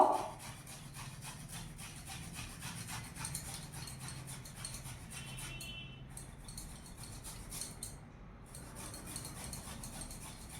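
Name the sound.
grating ginger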